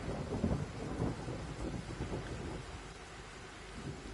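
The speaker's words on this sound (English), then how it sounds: "Why did you have to spawn me out in the rain?" Rain and rolling thunder in a train simulator video game, a quiet, steady wash of rainfall with low rumbles swelling and fading underneath, with no voices.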